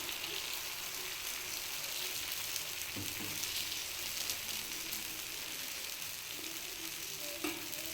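Dosa batter, a ladleful poured onto a hot pan, sizzles and crackles in a steady close hiss, with a few small clinks toward the end and no talking.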